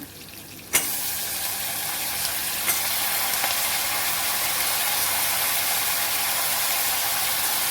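Vegetables drop into a pan of frying paneer pulao with a sudden clatter, and a loud, steady sizzle takes over at once. A faint scrape comes partway through, and the frying stays close and constant.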